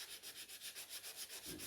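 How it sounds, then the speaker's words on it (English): A wooden ukulele kit being hand sanded, a quick rhythmic back-and-forth scratching of about a dozen even strokes, close and fairly soft, with no talking. "just coming through any little parts that you think might need a little bit more sanding"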